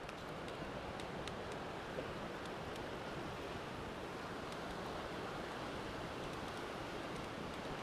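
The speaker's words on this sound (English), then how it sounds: "here we've got some big rapids" Fast-moving water rushes through big rapids on the Potomac River, where trees stand in the current, giving a steady, dense roar of churning flow with no pauses and no voices.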